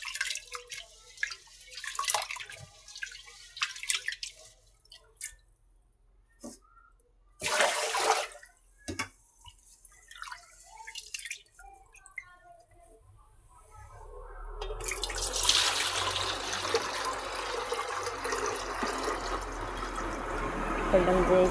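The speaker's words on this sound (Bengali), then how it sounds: "এই জন্য আমি পাতিলে রাখে দিলাম পানিটা।" Water is poured into a cooking pot at home, starting as scattered drips and splashes and turning into a steady, rushing pour for the last several seconds. Voices can be heard earlier in the clip.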